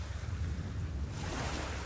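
Sea waves washing onto a beach with big black stones, a soft, steady surf roar with faint wind, distant and continuous, with no voices.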